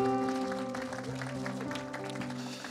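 A church congregation applauds and cheers, a dense wash of clapping with musical tones sustained underneath, fairly loud and continuous throughout.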